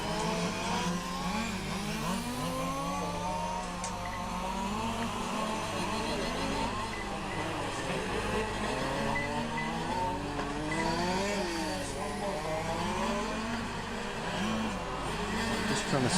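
Large scale RC race cars racing on a wet track at a European championship finals, a continuous buzzing engine drone with shifting pitch sweeps from several cars, with a commentator talking over it throughout.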